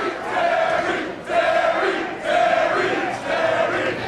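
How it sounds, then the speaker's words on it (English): Wrestling crowd at a 3PW anniversary show chanting Terry Funk's name in a steady, loud rhythm of repeated two-beat chants, voices massed together in an arena with no one speaking over it. "This crowd chanting Terry."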